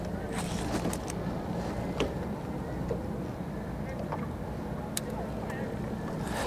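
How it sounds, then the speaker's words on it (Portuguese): Boats passing along a canal at Bertioga during a fishing trip produce a steady, loud wash of engine rumble and water noise throughout, with faint wind and occasional sharp knocks. "Fica muito barulho, muito barco passando"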